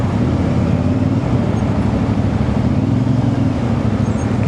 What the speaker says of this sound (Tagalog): ayan na traffic na